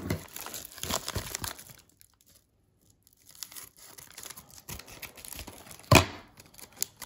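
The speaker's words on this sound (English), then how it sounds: "We will begin cutting the final pack here." Plastic wrapper of a 1994-95 Topps Series 1 NBA basketball card rack pack being cut and torn open, close-up crinkling and ripping in short bursts with a pause, then one sharp louder tear near the end.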